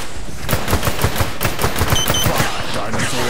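Rapid automatic gunfire from the Orion: Dino Horde shooter game, dense bursts of close, loud shots in quick rhythmic succession over about three seconds, with faint game sounds underneath.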